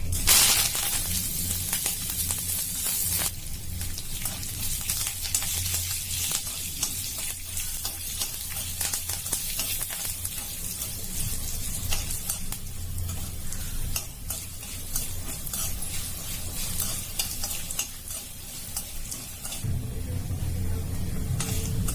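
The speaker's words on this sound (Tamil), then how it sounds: "கடுகு பொரிஞ்சிட்டு இப்ப கருவேப்பிலை, சுண்டக்காய் வத்தல், சீனரிக்காய் வத்தல் எல்லாத்தையும் போட்டுக்கலாம்" Curry leaves with dried sundakkai and dried cluster beans sizzling in hot oil after mustard seeds have popped, a steady close frying crackle with stirring throughout, loud and without talk.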